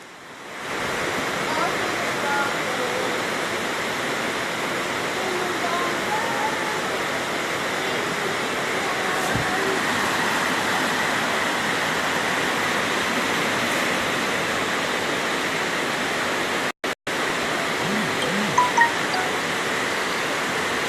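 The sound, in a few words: floodwater rushing through a flooded housing scheme in Jamaica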